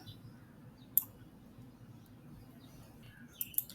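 Computer mouse clicks while working on a laptop, a single sharp click followed by a quick pair near the end, close and distinct over faint room hiss.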